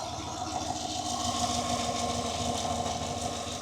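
A 2018 Chevy 6.2L V8 idling with a newly installed water pump, a steady close, even hum and whir that holds constant throughout without voices.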